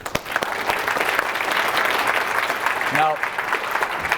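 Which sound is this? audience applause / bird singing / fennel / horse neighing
audience applause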